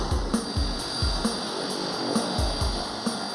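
A small plane flies over remote river rapids, its propeller engine droning with a steady rhythmic throb, loud and close, with no voices.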